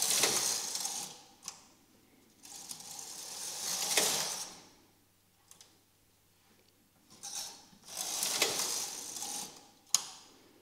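A knitting machine carriage sweeps back and forth across the needle bed while knitting short rows for a scalloped hem. It makes several loud mechanical whooshing, clacking passes separated by near-silent pauses, with one sharp click near the end.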